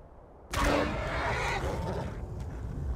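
A horse in Skyrim lets out a loud, close whinny that starts abruptly and trails off over a couple of seconds, with game ambience continuing beneath it.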